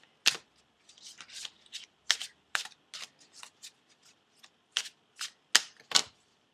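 Tarot cards shuffled and drawn by hand, sharp papery snaps and soft sliding flicks in irregular bursts, close and quiet with short pauses and no speech.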